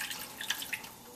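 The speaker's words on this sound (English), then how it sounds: "I'm going to pour some water on the base of this" Water is poured into the base of a roasting pan holding a chicken for oven roasting, a quiet close trickle with a few small splashy drips over about a second.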